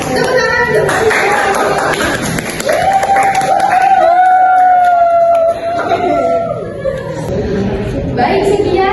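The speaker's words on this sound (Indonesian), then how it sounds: "Tepuk tangan untuk Mbak Rizka" A classroom of students applauding a classmate during a micro-teaching session, loud clapping and cheering from a nearby group with a prolonged shout rising over it, settling toward the end.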